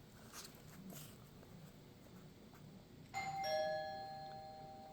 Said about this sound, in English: Doorbell.